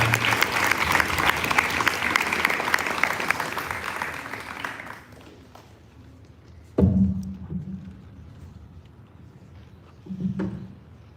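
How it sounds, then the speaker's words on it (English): An audience at a sixth form leadership summit applauds poet Mohammed Akil, a dense round of clapping that tapers off after several seconds, followed by a couple of isolated thumps in near silence. "Can we have a huge round of applause for him?"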